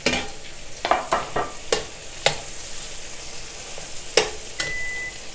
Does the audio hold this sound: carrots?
yes